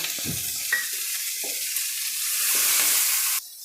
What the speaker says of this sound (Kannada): ಈಗ ನಾನು ಹಾಕಿರೋ ಪದಾರ್ಥಗಳೆಲ್ಲ ಫ್ರೈ ಆಗಿದೆ ಸೊಪ್ಪುಗಳನ್ನು ಫ್ರೈ ಆಗಿದೆ